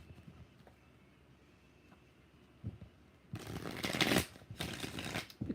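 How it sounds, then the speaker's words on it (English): Tarot cards are shuffled in short, crisp riffling bursts near the end, following a few seconds of quiet with faint handling noises. "All right, 4 shuffles for Eliza."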